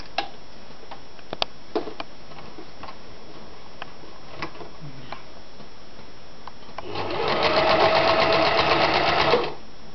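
A home sewing machine stitches fabric for a pin cushion with a pocket. The needle runs in a steady, fast mechanical whir for about three seconds near the end, after some soft ticks and handling clicks.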